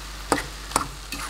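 A fork stirs cooked rice in a pan for chicken kabsa, three short scraping clinks spaced evenly over a quiet background sizzle.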